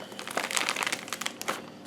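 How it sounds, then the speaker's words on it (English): A zip-top plastic bag filled with mocha drink mix is pressed closed, giving a close, busy run of crinkling plastic rustles over about two seconds. "we're just going to zip this up"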